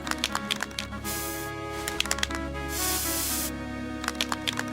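Spray ability of the character Veronica in the video game Forsaken, a pair of long hissing spray bursts between clusters of sharp clicking game effects, loud and close.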